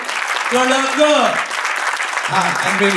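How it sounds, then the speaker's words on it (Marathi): An audience applauds a company's fastest-growing tourism award, a burst of clapping running beneath a man's speech, rising and lingering as he keeps talking. "त्यासाठी कडक टाळ्या झाल्या पाहिजे"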